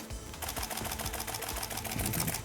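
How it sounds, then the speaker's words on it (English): A rapid, steady burst of mechanical shutter clicks from a Canon EOS 5D Mark IV shooting continuously at 7 frames per second runs for a couple of seconds, close and even in rhythm. "Continuous shooting is possible at 7 frames per second."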